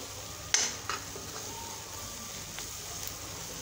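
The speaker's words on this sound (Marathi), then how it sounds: "मस्तपैकी तेल सुटेपर्यंत आपलं हे बेसन पीठ आपण भाजून घेऊ याच्यामध्ये" Gram flour (besan) roasting in oil in a pan while being stirred, a steady faint sizzle with a few sharp scraping stir strokes near the start, close and alone.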